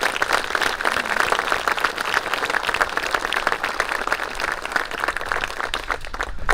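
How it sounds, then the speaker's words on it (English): An outdoor Memorial Day crowd in Mansfield, Massachusetts applauds the Field of Honor Committee, giving continuous, moderately loud clapping that holds steady across the whole span. "So if you could please give the Field of Honor Committee a round of applause for that."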